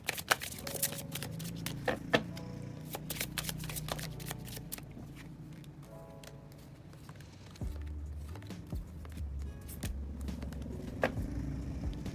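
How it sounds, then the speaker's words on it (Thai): Tarot cards being shuffled by hand, a close run of riffling, flicking and slapping card sounds with a faint hum of traffic behind. "เรามาสับไพ่แล้วก็เลือกเอาเราขึ้นการ์ดอันนี้นะคะ"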